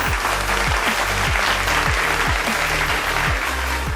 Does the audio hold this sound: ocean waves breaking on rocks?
no